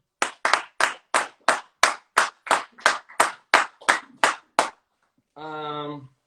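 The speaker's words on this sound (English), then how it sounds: "One more round of applause for Lauren." Hands clapping about a dozen times in a steady, even rhythm during an Instagram live, close and clear, followed by a short burst of buzzy electronic tone at the end.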